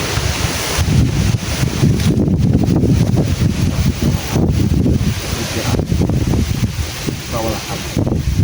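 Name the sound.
strong wind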